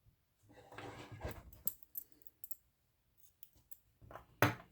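Crochet yarn being snipped after the last slip stitch on a small crocheted angel, a few soft clicks and snips with brief rustling of thread handling, close and quiet, no voice.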